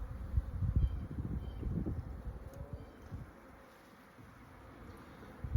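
Honey bees buzz steadily over open hive frames, a close, low droning hum that fades somewhat midway and then swells again, with no voices.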